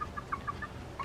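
Domestic chickens foraging, giving a series of short, soft clucks spaced through the clip over a low, steady background hum.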